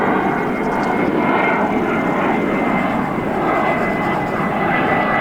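A big jet aircraft climbs out of John Wayne Airport over the Upper Newport Bay marsh, a loud, steady broadband roar running throughout without a break.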